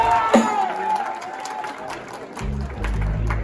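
An audience at a live show by Garry Sandhu, G Khan and Khan Saab breaks into brief applause and cheers, loud at first then thinning under crowd noise and voices.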